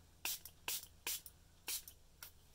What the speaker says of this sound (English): now what happens if I spray it a little?